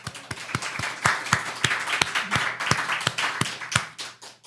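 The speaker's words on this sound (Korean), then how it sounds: "이 선택을 할 수 있게 은혜 주신 하나님께 감사의 박수를 보냅니다." Congregation at a Sunday church service clapping in a steady, fairly regular rhythm, sharp individual claps over a soft wash of scattered hand claps from the crowd, moderately loud.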